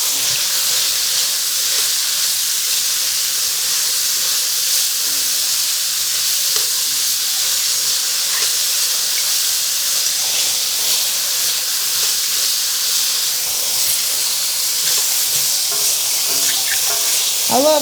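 Zucchini stir-fried in a wok gives off a loud, steady hiss and sizzle that runs unbroken throughout, close and bright, with faint scraping now and then.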